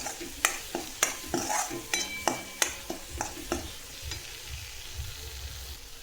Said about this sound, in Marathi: हे व्यवस्थित मिक्स करून 2 मिनिटं परतून घेऊ।